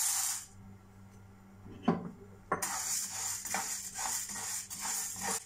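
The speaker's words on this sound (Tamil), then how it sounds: "அடுத்து துவரம்பருப்பை சேர்த்து இதை வறுத்துடலாம்." Toor dal dry-roasted in a pan for kulambu milagai podi spice powder. Faint rattling and scraping of the lentils against the metal comes in uneven bursts, with a brief louder clatter near the start of the stirring.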